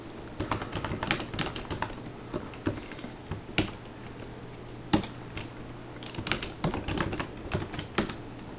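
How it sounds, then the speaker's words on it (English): Typing on a computer keyboard while entering Ruby code, a close, crisp run of irregular key clicks and taps in quick bursts with short pauses, over a faint steady hum. "typing this hash sign and then the curly brackets"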